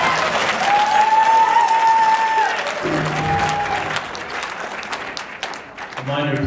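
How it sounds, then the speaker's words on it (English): Applause at a city council hearing: a crowd claps steadily for several seconds, loud and close, then the clapping fades as a voice begins speaking over the room. "Reminder, please hold your applause."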